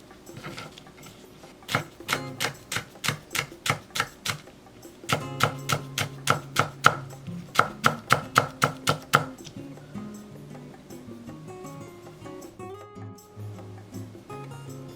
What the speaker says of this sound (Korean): 고명에 올릴 대파 약간은 쫑쫑 썰었다